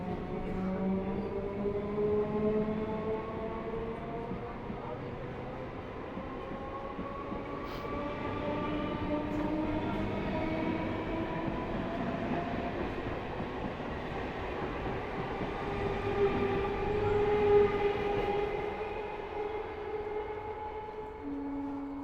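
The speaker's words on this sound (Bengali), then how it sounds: "এবারে এই রানাঘাট গেদে লোকাল 5:25 ছেড়ে বেরোনোর জন্য প্রস্তুত" Ranaghat–Gede local passenger train running steadily, with a continuous rumble of wheels on rail and long droning tones rising and falling, loud and close throughout, swelling slightly near the end.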